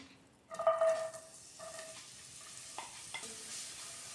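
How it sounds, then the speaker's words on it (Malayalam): Onion frying in hot oil in a pan for an egg roast, a soft steady sizzle with a sharp burst as pieces go in, then stirring scrapes and clatter, close and moderately loud. "ഈ എണ്ണ ചൂടായി വരും, നമുക്ക് അതിലേക്ക് ഓണിയൻ ആഡ് ചെയ്ത് കൊടുക്കാം"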